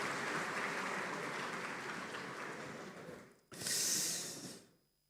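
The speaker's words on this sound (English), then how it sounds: "A round of applause for them again." Audience applause at a Democracy Day public lecture for speakers who had just presented, a dense wash of clapping that fades out, followed by a brief noisy burst before dying away.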